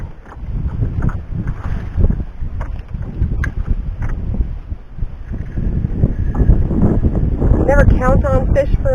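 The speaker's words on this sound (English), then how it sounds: "It's getting a little breezy out too" Breeze gusts steadily into the microphone while fishing from a canoe on a backcountry lake in the Haliburton Highlands, a continuous low rumble with faint knocks and a brief burst of voices near the end.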